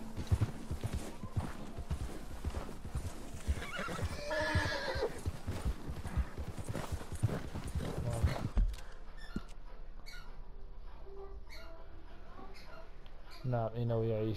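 A white legendary horse in the video game Red Dead Redemption 2 neighs loudly and gallops with rapid hoofbeats, then the pounding drops away to quieter ambience and a closing whinny.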